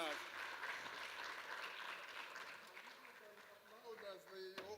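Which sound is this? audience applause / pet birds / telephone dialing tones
audience applause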